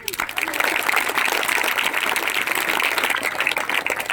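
Schoolchildren at a bicycle distribution event clap in thanks to an MLA, a loud, dense burst of crowd applause that rises quickly and holds steady for several seconds, with some voices mixed in.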